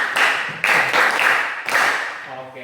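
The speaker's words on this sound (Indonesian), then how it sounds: "kasih tepukan 7 untuk kelompok 2" A class group claps in a counted patterned rhythm for another group during a teacher-training session, with several loud, sharp bursts of clapping separated by brief gaps.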